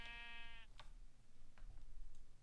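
A sheep in the Minecraft video game gives one clear, nasal bleat at the start, followed by quieter game sounds and faint clicks.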